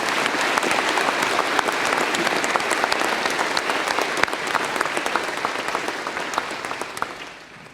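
A church congregation at a Gereja Kristus Yesus synod service applauds newly ordained and confirmed pastors and their wives, with loud, sustained clapping from a large crowd that fades out at the end.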